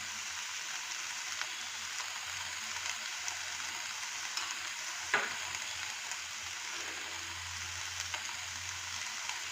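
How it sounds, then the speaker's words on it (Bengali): Vegetables for a chicken salad sautéing lightly in a pan, a steady, close, even sizzle throughout with one brief sharper crackle near the middle. "হালকা একটুখানি সতে করে নেব"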